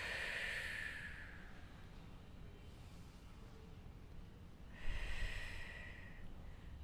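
Slow breaths out during a floor exercise for the pelvis, two soft breathy exhales about four seconds apart, close and fairly quiet over a low steady background hum.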